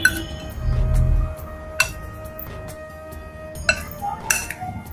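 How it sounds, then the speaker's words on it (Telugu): Chicken pieces being mixed with chilli powder, salt, turmeric and spices in a bowl produce a soft rustling smear, then sharp clinks of metal and glass against the bowl, scattered and close. "ఈ మసాలాలు అన్నీ వేసి చికెన్ని మంచిగా కలపాలి"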